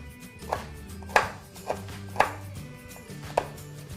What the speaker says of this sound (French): Tant que tu as ta planche à découper, tu vas couper du chocolat